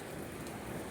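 Hail pelts down in a dense, steady patter, a continuous even hiss of small impacts with no voices.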